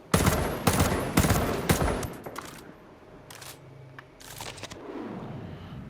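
A DMR rifle firing in the shooter game Ghost Recon Breakpoint: a quick run of loud, sharp shots, then a quieter stretch with a couple of spaced single shots.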